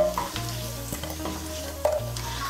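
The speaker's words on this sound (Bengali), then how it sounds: "মিশিয়ে নিয়ে আলুটাকে লাল করে ভেজে নেব।" Potatoes frying in hot oil in a kadai for a vegetarian kofta curry, a continuous close sizzle with a steady low hum and faint clinks of stirring, no talking.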